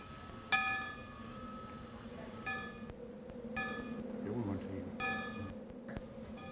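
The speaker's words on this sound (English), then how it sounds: "Preparations are made for the first ringing of the bell." A newly installed village bell rings out four times at spaced intervals, each strike clear and resonant above a low, steady background murmur.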